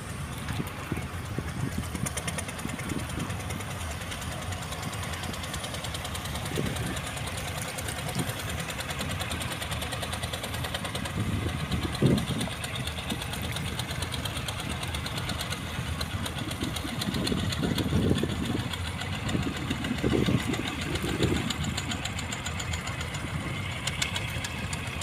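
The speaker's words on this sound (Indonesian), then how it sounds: "Ada kapal yang masuk lagi itu di sana." A large ship's engine rumbles steadily as the vessel enters a harbor in late afternoon, a continuous low, even drone with faint knocking pulses, heard from a distance over ambient noise, with no talk.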